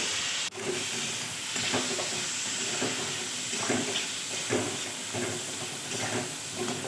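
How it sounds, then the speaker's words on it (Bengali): Hilsa curry cooking in a pan with a little water, a steady hiss of simmering and sizzling pulsing in soft repeated surges, with a sharp click near the start and no talking. "ভালো করে কষিয়ে নেব অল্প জল দিয়ে"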